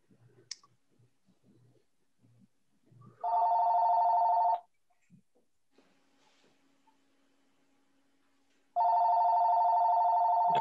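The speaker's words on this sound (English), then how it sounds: "Who's that? Is that my phone?" Mobile phone ringing in a watercolor class: two bursts of a steady electronic tone, each lasting over a second, separated by quiet with faint clicks and rustling.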